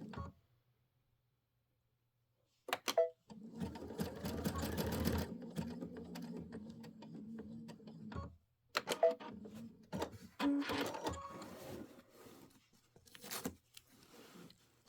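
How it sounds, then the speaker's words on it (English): Home sewing machine stitching a bat embellishment onto a Kimberbell Pumpkins and Potions quilt project, short bursts of rapid mechanical stitching separated by pauses and small handling clicks, close and moderately quiet. "I'm just kind of stitching it down somewhere in the body"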